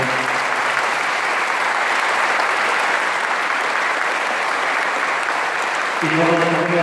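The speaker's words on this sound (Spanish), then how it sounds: "Gracias, y vamos a dar un fuerte aplauso." A church congregation at a bishop's Mass in Pénjamo gives a loud, sustained round of applause, dense and continuous, with a voice and music briefly emerging near the end.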